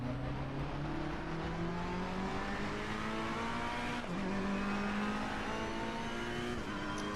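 Race car engine in Assetto Corsa Competizione at Kyalami on PS4, held in a low gear, droning steadily throughout, with a brief dip and pitch drop near four seconds and another shift near six and a half.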